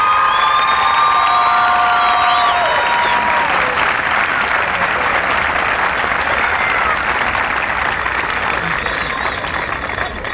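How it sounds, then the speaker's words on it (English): A commencement crowd for the Admiral King class of 1995 breaks into loud, sustained applause with cheering and a few whistles near the start, the dense clapping holding steady for about ten seconds. "May we have their applause."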